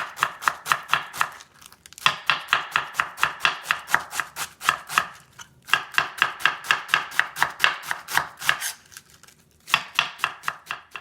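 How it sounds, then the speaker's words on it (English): A knife shreds rolled cabbage leaves thinly on a cutting board, giving rapid, even chopping taps close up, in three long runs separated by short pauses. "roll two pieces together like this and shred it thinly"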